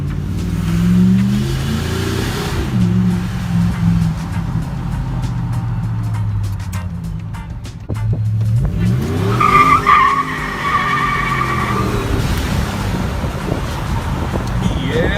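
A 4th-generation RAM truck with its clutch fan deleted accelerating hard, engine roaring and rising through gears with wind rush, one pause and a renewed pull midway, heard from nearby throughout.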